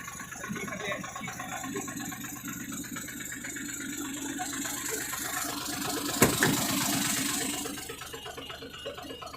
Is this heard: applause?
no